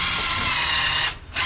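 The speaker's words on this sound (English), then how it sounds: "I'm actually drilling it right onto the middle area" A power drill drives screws into a wooden door jamb during a repair, whining loudly and continuously up close, then cutting out briefly before spinning up again.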